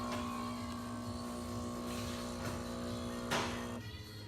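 A Jura espresso machine's built-in grinder grinds coffee beans in a steady, fairly quiet mechanical whir with a faint tonal hum, a couple of brief clatters near the end before it stops.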